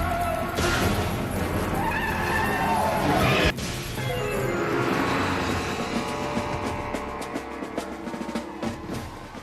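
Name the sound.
car chase sound effects with skidding, from a movie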